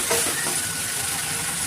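Tomato cooks down in a hot pan, giving a continuous close sizzle with soft stirring scrapes and no talk over it.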